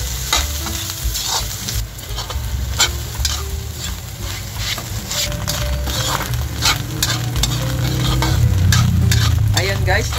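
Garlic, onion and pork lung for Ilocano pork igado sizzle and fry steadily in a hot pan, with repeated scraping and stirring strokes building louder toward the end; no talking.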